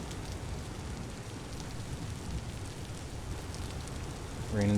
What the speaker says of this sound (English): Rain in this game is vibes.